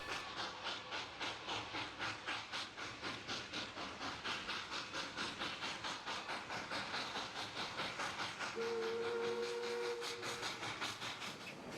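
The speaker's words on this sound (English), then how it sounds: "The locomotive emerges from Tunnel 1" Locomotive rolling out of a tunnel in Robinson Canyon, with a steady rhythmic chuffing pulse throughout, wheel clatter and hiss, fairly faint and distant, and a brief tonal whistle-like note near the end.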